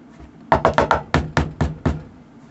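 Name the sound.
knocking on the front door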